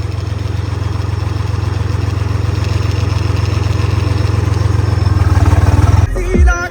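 A tractor pulling a trolley along a road runs with a loud, steady low engine drone that holds evenly for several seconds before dropping away abruptly near the end.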